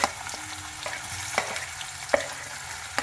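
Chopped onion sizzling in hot oil in a pan for Gujarati dal dhokli, a steady frying hiss with a few soft clinks of a utensil, no voices.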